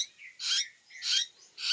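A captive talking bird, locally called saling, gives three evenly spaced harsh, high chirping calls, close and fairly faint, with quiet between each call.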